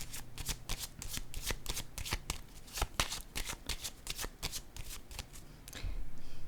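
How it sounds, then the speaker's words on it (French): Cards being handled and laid down for a tarot-style reading: a quick series of crisp snaps and riffles near the microphone, ending with a soft rustle, no talk. "Je vais déposer une carte sur ces deux-là."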